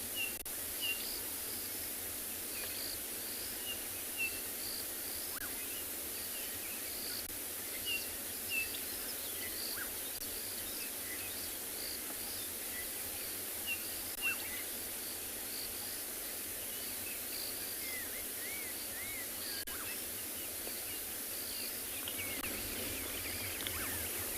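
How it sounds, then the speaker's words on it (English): Faint bird calls and chirps at sunrise scattered over a steady hiss of insects, with no voices, all distant and quiet throughout. "you can able to hear all communication of the birds"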